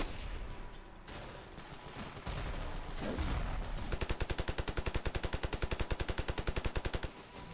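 Rapid automatic rifle fire in the video game Ravenfield, a long steady burst of close, loud shots after a few scattered earlier bursts.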